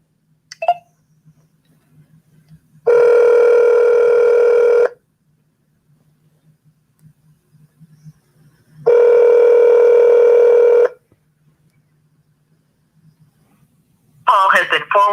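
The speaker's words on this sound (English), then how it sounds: "Someone's got to answer this dang phone." An outgoing telephone call rings back in two long, evenly spaced electronic ring bursts with quiet line hiss between them; a short tone is heard at the start and another at the end.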